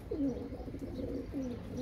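A male pigeon coos angrily at a female in a loft: two throaty, rolling coo phrases, close but quiet, with no voices.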